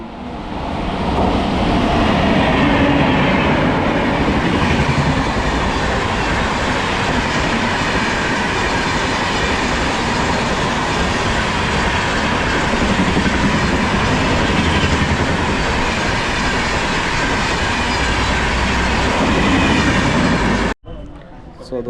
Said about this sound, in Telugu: సో దోస్తులు ట్రైన్ వస్తుంది కానీ మెల్లగా వస్తుంది.